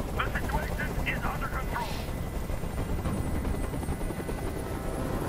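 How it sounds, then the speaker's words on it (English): A helicopter hovers in the video game Detroit: Become Human, its loud, steady rotor roar filling the whole stretch, with brief voices audible near the start. "I can't stand that noise anymore. Tell that helicopter to get out of here."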